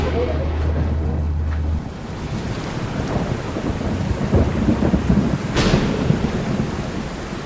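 Heavy rain pours steadily with rolling thunder, a loud crack near the middle, within a religious drama scene; a steady low hum fades out early on.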